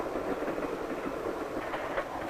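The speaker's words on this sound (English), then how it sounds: "And sometimes the train goes through the mountain itself" Train running through a mountain tunnel, a continuous rumbling roar with faint rhythmic clatter from the wheels, steady and fairly close.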